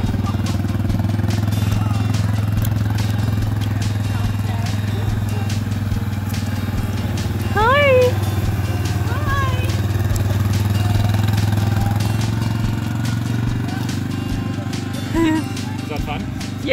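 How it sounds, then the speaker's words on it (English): A quad bike engine runs steadily throughout, a constant low drone close by with brief rattles, while people talk over it at a couple of points. "Don't want to be killed by the quad."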